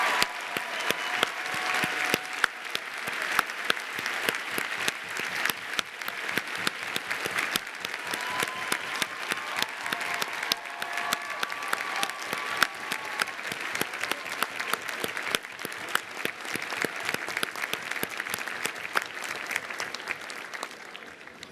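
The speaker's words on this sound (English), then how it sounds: "Please join me in a round of applause for my wife, Diane, who is seated down here in front of the stage." Audience applauding at an undergraduate graduation ceremony, a large crowd's dense, sustained clapping that fills the hall evenly for over twenty seconds without letting up.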